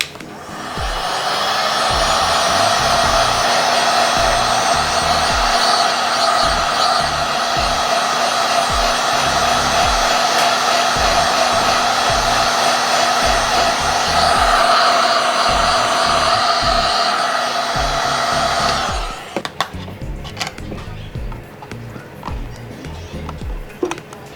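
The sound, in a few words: hot air blower loosening iPad Air 3 screen adhesive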